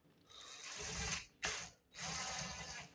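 Impact driver running a screw into a wall switch cover plate, two short whirring bursts close by with a brief sharp tick between them, otherwise quiet.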